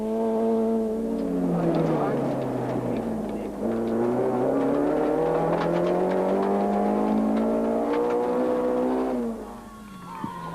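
A rally car engine on a Tour Natal 2006 stage revs hard and climbs through gears, a loud, sustained, rising engine note with brief dips at shifts, close to the microphone.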